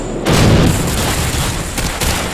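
A broad, heavy booming roar from an AGM missile strike in the Modern Warfare 2 campaign, loud and sustained for a couple of seconds after a sudden onset, with rumbling crackle throughout.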